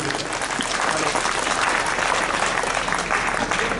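Sustained applause from an audience at a Mithila Vibhuti Parva gathering in Darbhanga fills the space, dense and loud throughout with a crowd murmur underneath.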